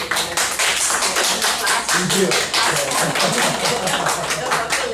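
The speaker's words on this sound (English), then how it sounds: "Let us give the presenters and the respondents a round of applause." An audience at an academic session on citizenship education in Asia gives the presenters and respondents a round of applause: dense, steady clapping that continues throughout, with a brief spoken word over it.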